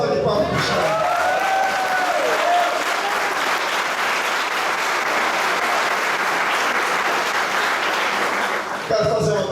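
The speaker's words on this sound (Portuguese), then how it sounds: "dá uma salva de palmas para o Senhor" A church congregation at a Baptist service applauds in praise, sustained loud clapping filling the room for several seconds, with a voice heard over it at the start before the clapping cuts off near the end.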